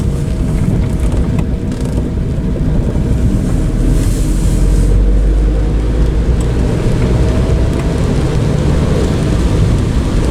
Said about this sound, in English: this is actually fairly gentle rain and very welcome